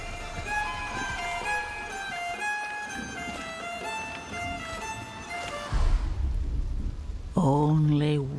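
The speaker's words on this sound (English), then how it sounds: "So let's enjoy the storm a moment." Rain pours steadily during a thunderstorm in the video game Diablo 4, a broad hiss with low rumbles beneath sustained musical tones, ending in a burst of heavier noise and a voice-like sound.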